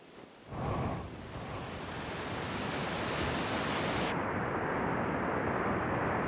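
A roaring waterfall in the video game Outer Wilds, a dense steady rush of falling water that swells in quickly and holds loud and unbroken, with no voices over it.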